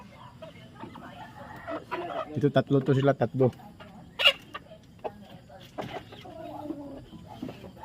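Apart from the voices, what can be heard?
chickens clucking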